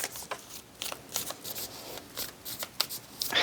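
Soul Coaching Oracle deck cards are shuffled and drawn by hand, a close series of quick papery riffles and flicks in irregular bursts with short pauses between them.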